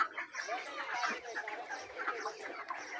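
Chickens in a poultry house cluck and murmur together in a soft, steady chorus, with a few brief louder calls rising out of the flock.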